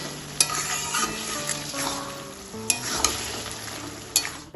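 A spoon stirs a simmering prawn and cabbage curry after salt and turmeric go in, scraping and clinking against the pan over a constant bubbling sizzle, with a few sharper knocks.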